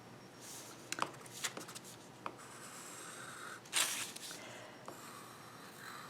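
A pencil scratching and scraping across paper in short, quiet strokes with small pauses between them, heard up close in a quiet room.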